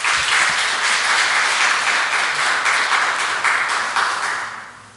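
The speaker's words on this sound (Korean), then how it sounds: "그리고 악기팀에게 다시 한번 격려의 박수 부탁드립니다." Church congregation applauding its instrument team during a Sunday worship service, a loud, even burst of clapping that holds steady and then tapers off near the end, with no voices over it.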